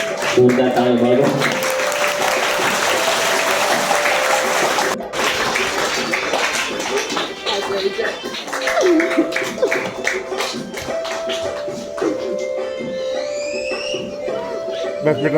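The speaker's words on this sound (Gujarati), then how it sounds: "જોરદાર તાળી પાડો" An audience claps loudly and continuously at a primary school farewell honour ceremony, the dense applause filling the room while a voice speaks over it and some tonal sound runs beneath.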